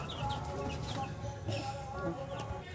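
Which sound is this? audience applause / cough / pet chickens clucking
pet chickens clucking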